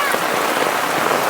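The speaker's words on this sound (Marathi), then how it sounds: "एवढा पाऊस जोरात पडतोय" Heavy monsoon downpour over a farm in Konkan, a dense, loud, unbroken hiss of rain drumming on surfaces all around.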